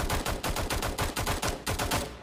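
Rapid bursts of gunfire in the video game Omega Legend, with loud, closely spaced shots in an uneven rhythm that runs for the whole stretch with no voices.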